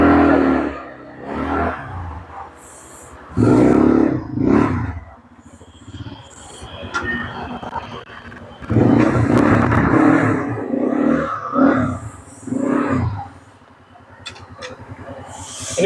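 A Hornet 200cc automatic ATV sits close by as its engine starts and revs in several loud bursts, dropping back to a lower idle between each rise.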